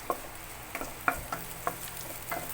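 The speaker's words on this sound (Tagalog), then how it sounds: "Siyempre isunod na natin ang bawang." Ginger and garlic sauté in a pan for soup, a soft steady sizzle punctuated by about seven clear knocks of a spatula against the pan at uneven intervals, close and quiet, with no talking.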